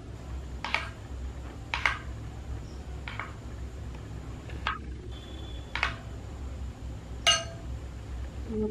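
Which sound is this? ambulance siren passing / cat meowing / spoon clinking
spoon clinking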